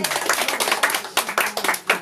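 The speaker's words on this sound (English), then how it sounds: "I'd like you to give a very big hand of applause, please, to the two Micks" A small group claps for two performers, individual claps standing out in an uneven rhythm, close and fairly loud, with voices mixed in.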